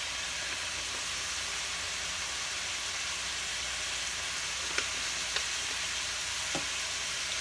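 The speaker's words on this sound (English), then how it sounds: "And I'll just make sure that's fried together with the vegetables." Meat sauce with crushed red pepper and oregano fries together with vegetables in a pan, giving a steady, even sizzle with a few faint clicks of stirring.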